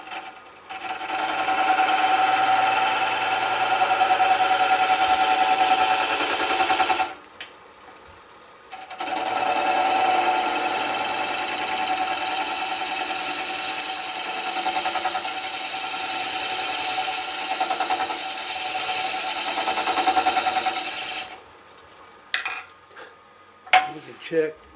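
A wood lathe spins a small birdhouse ornament while a round skew chisel cuts, a loud steady humming whir close by in two long runs separated by a short pause, ending with scattered knocks.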